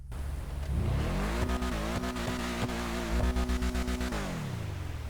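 The Ubermacht Cypher's engine in the racing game NFS Most Wanted revs up loudly, holds a steady high drone with rapid gear-like stutters, then eases down, heard alone without speech.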